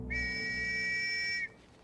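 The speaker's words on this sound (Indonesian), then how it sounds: "Peluit pun dibunyikan" A single sustained shrill whistle blast, lasting over a second and cutting off sharply, signals the start of an attack by American troops heading into the Hürtgen forest in a war film.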